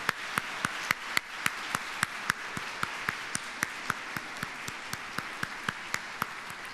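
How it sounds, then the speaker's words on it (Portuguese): Applause for teachers at a tribune session, heard as a light bed of crowd clapping with a prominent series of sharp, evenly spaced claps standing out close by. "Uma salva de palmas para os professores."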